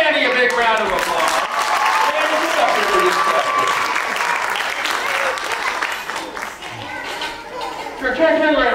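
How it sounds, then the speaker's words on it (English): Audience applause at a magic show held in a museum, steady loud clapping from a crowd for a volunteer who has come up on stage, with some cheering and a voice over it. "Give Randy a big round of applause"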